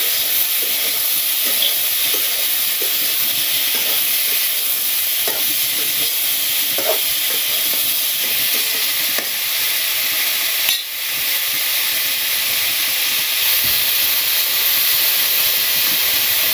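Fish and vegetables fry with spices in a pan, giving a loud, steady sizzle and hiss with occasional stirring scrapes throughout and no talking.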